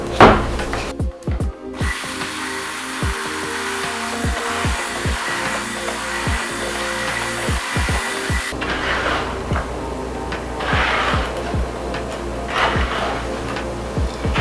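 A steady whirring mixer runs against a container, with irregular scraping and knocking as thick, mossy green cold process salt soap batter is stirred, continuous and close.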